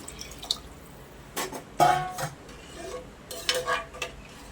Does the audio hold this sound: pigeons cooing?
no